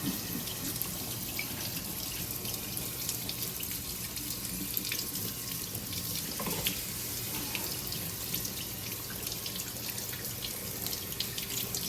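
Water runs steadily and splashes without a break, a continuous hissing stream from a tap rinsing a washed K&N engine air filter. No voices.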